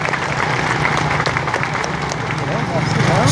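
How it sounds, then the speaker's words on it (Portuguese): A meeting audience in Vale dos Machados bursts into sustained applause, dense even clapping filling the room with crowd murmur mixed in. "Uma salva de palmas para o Tribunal de Justiça."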